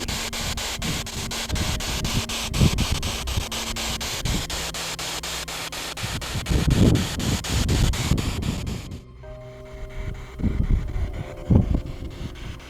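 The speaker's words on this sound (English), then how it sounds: "It's getting really, really windy." Strong desert wind buffets the microphone in rumbling gusts, with a steady whirring hum underneath and a brief drop partway through.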